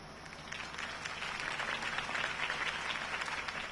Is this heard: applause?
yes